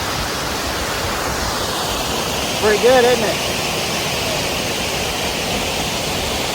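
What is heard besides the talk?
roaring waterfall in the Ozarks after flooding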